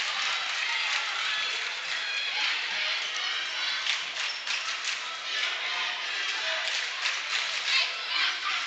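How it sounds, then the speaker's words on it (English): A high-school basketball crowd at an Emporia versus Great Bend game fills a gym with a continuous roar of cheering and shouting, and occasional claps and squeaks rise from the din. "This crowd from Emporia has gotten into it here at the start of the fourth."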